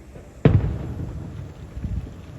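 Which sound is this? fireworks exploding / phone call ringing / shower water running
fireworks exploding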